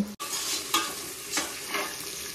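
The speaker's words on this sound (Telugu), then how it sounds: "ఇలా మధ్య మధ్యలో కలుపుకోవాలండి, లేదంటే అడిగంటేస్తుంది." Onions frying in a pan for chicken pulao, a steady sizzle with a few scraping stirs of a spoon spaced a second or so apart, close and clear, no talking.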